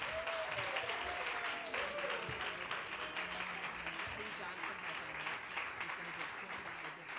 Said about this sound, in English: Come on, round of applause for all three of our awardees.